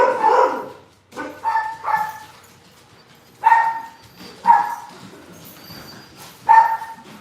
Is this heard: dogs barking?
yes